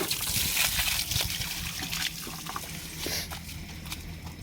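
Water gushing and splashing while a bucket is rinsed out, a steady loud wash with trickling and sloshing that eases a little midway, no talking.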